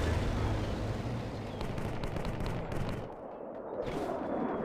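Battle gunfire crackles across a World War Armies 2 real-time strategy skirmish, a dense distant rumble of rifle and machine-gun shots with booming impacts, steady and moderately loud, no voices.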